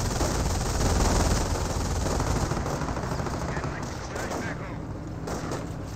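Rifle fire hitting a half-track in the Company of Heroes video game: dense, continuous crackling gunfire bursts under a steady battle din, moderately loud and sustained throughout.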